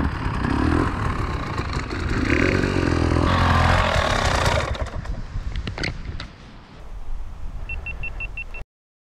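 A KTM 300 two-stroke dirt bike revs hard through repeated wheelie attempts, its loud engine surging and dropping over several seconds before easing off near the end, with short high beeps at the close.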